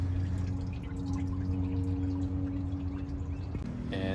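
Distilled water drains steadily from the cooling system of a Mitsubishi 3000GT, a continuous close trickle and splash with a low hum, ending in a brief clatter.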